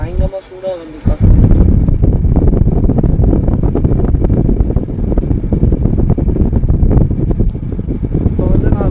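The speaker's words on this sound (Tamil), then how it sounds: "இது வந்து மேக்ஸிமம் ஹை வந்து பயங்கரமாக சூடாக வந்து காற்று." A Toyota Hyryder's climate control fan blows at its maximum setting, a loud, steady rushing airflow that starts abruptly after a brief quieter moment and continues without a break.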